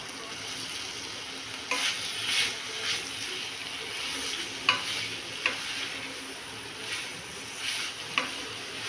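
Grated coconut, coriander and kantola vegetable frying in a pan, with a steady soft sizzle broken by repeated sharp scrapes and clatters of a spoon stirring every second or so.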